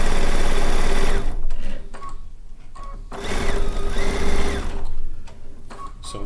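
Sewing machine stitching fabric, a loud steady mechanical whirring in several sustained runs broken by short pauses, with no talk over it.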